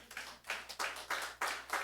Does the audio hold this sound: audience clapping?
yes